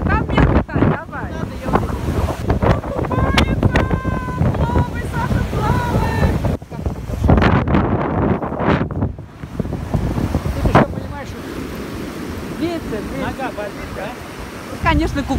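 Wind buffets the microphone while sea waves surge at the shore, a rough continuous roar with gusty swells, and voices talk intermittently over it.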